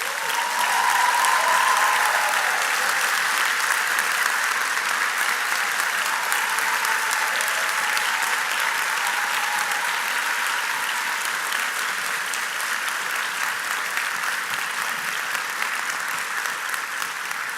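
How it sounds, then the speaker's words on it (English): A large audience at the Bard College Commencement 2021 applauds the parents and families of the graduates, a dense, steady wash of clapping that holds for the whole stretch and eases off only slightly toward the end. "I hope everyone present here will join me in a round of applause for the parents and families of"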